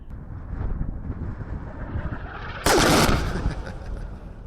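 Gunfire playing from a mobile app video: a steady low rumble with wind-like noise, broken by one loud, sharp burst of shots near the end.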